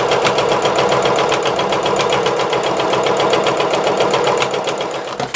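A sewing machine runs a plain straight stitch at normal tension and length through quilted fabric, producing a fast, even mechanical chatter that holds steady and then slows briefly near the end.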